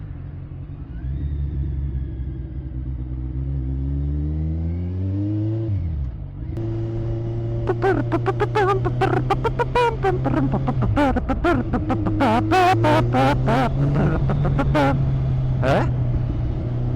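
A 138-horsepower motorcycle engine under 200 kg idles with a steady low drone, then revs repeatedly in sharp, loud bursts close by, with a brief spoken word near the start.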